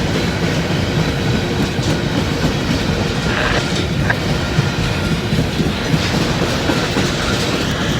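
A freight train comes around a curve, a steady rumble of rolling wagons with rhythmic clickety-clack from the wheels and faint squeals, heard continuously from a distance with no voices.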